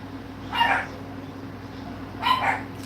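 Two short bursts of dog barking at a home, one near the start and one near the end, moderately loud over a steady low hum with no talking.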